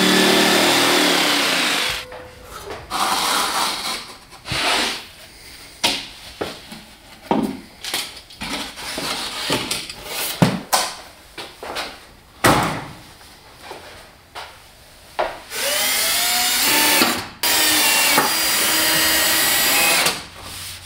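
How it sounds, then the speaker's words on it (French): A jigsaw cuts the door opening in a partition wall panel, loud rattling cutting that starts and stops in repeated bursts with short pauses between cuts and no talk. "utilise une scie sauteuse."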